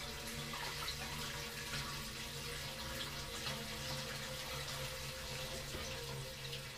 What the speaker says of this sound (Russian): Лучше всего профильтровать вот так вот через мешок.